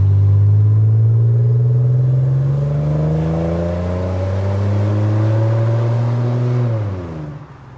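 Car with a swapped exhaust accelerating hard, a loud, close, droning engine note rising steadily in pitch for several seconds before easing off.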